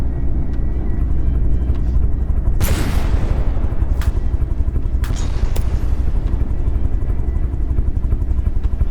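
Ships trade fire in the naval combat game From The Depths, sharp weapon bursts and booms cracking over a constant low engine rumble, with a heavy blast standing out midway.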